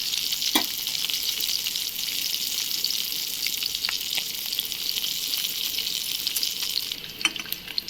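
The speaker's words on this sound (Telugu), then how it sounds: "చూడండి, కొంచెం మెంతులు వేసుకున్నాం. ఇది ఫ్రై చేసుకుంటాం." Fenugreek seeds fry in a pan of hot oil, alongside cumin and mustard seeds already added, giving a steady close sizzle with a few sharp crackles and pops and no voices.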